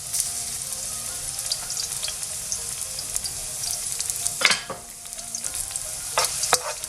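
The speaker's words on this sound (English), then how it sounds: "I'm just going to let the garlic to get golden brown" Three cloves of finely chopped garlic fry in oil over high gas heat, a steady close crackling sizzle with occasional sharper spatters and light scraping, no talk.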